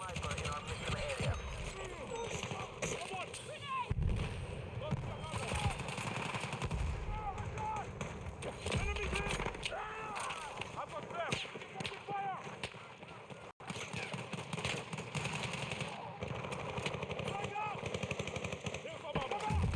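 Repeated gunfire during a ranked PS5 shooter match as a hostile sniper engages: sharp cracking shots and bursts run throughout over busy game noise, with a voice talking at times.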